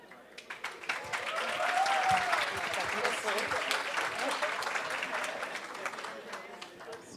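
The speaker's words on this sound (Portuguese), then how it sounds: "obrigada pelos aplausos" Applause from a conference audience at a family-business forum, building to a sustained, steady round of clapping that slowly tapers, with a voice speaking over it.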